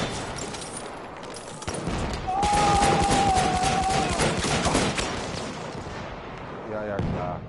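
Battlefield 1 gunfire sounds in dense, loud bursts of shots and explosions, rising to a heavy sustained barrage in the middle before thinning out toward the end.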